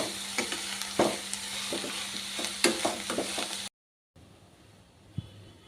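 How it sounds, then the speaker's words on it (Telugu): Crushed garlic stirred and fried in a pan of panagunta greens gives a steady close sizzle with scraping spoon strokes, then a brief cut to a quieter stretch with one soft knock. "ఇదంతా కూడా ఇలా చక్కగా కలుపుకొని కుక్ అవనిద్దాం."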